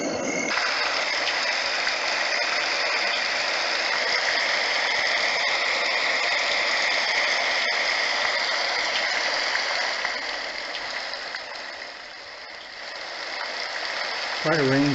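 Rain setting on a white noise machine: a steady, even hiss of falling-rain noise that holds constant, dips briefly near the end, then cuts to a different sound in the last moment.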